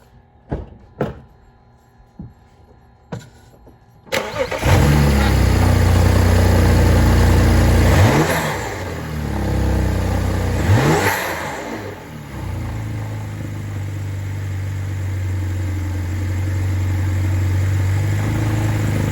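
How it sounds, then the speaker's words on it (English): A few clanks and a door thud, then a car engine with a newly installed ARM charge pipe cranks and catches, revving a couple of times before settling into a steady, close idle. "I'm gonna go start this thing and see if I still get a code."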